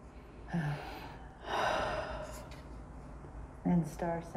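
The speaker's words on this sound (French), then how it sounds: "Prenez une respiration." A person takes a deep breath during a guided French meditation: an audible inhale and exhale stand alone, with a quieter breathy sound following.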